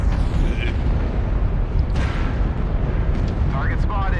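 Artillery strike explosions in the battlefield game MechWarrior Online, with a heavy, sustained rumbling roar of blasts filling the whole stretch and faint radio-like voice fragments over it.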